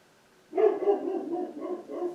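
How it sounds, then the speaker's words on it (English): A pet dog barking indoors: a short run of several muffled barks and yips in quick succession, moderately loud and somewhat distant, starting after a brief quiet and with no talking. "My dog is barking."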